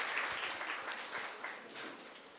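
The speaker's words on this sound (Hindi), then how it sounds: "आइए जोर से ताली बजाकर परमेश्वर को महिमा दें।" A church congregation at a Palm Sunday service claps to give glory to God, a faint, fairly distant patter of many hands that continues evenly for a couple of seconds.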